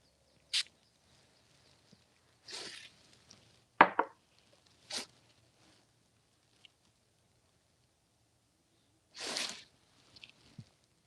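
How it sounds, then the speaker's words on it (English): A spray bottle spritzes water onto a watercolor painting in several short, separate hissing bursts, close and soft, with quiet gaps between. "Spritz a little water from the top here."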